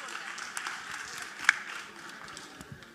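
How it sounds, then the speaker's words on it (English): An audience gives a quiet, distant round of applause for the singers at a Passion recital of cross music. The steady patter continues with a few louder claps, and faint voices can be heard. "Please give a round of applause to all of these wonderful singers."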